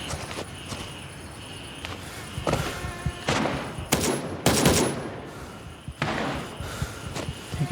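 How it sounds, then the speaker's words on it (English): Bursts of rapid gunfire crackle through a busy soundscape in the video game Grey Zone Warfare, with heavy thumps and several loud volleys clustered in the middle. "Oh, we already hear gunfire though."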